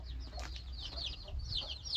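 Soft country-breed hen clucks and murmurs come and go against a low, steady background rumble, with no voices.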